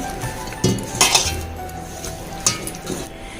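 Chicken tikka marinade with ginger garlic paste and masala being stirred with a spoon in a bowl, giving repeated close metallic clinks and scrapes against the bowl over a steady low background hum.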